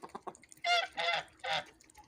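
Geese kept as backyard poultry honk three times in quick succession, loud nasal calls close by, preceded by a few softer clucks and calls.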